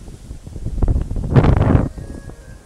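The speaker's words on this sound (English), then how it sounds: "It's windy as hell." Strong wind gusting through woods at night, a rough buffeting rush that swells to a loud peak midway and then eases back to a low rumble.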